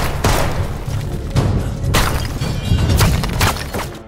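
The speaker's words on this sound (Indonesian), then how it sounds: "Sebuah tembakan berhasil mengenai perutnya." Gunfire in an action film as hired gunmen ambush a man working on a building rooftop: several loud, sharp bangs at irregular intervals, each with a booming low thud, over a rumbling background.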